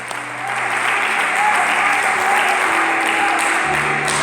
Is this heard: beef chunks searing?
no